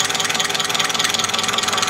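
A Mitsubishi Canter diesel engine runs steadily with a continuous, even throb, loud and close, no voices.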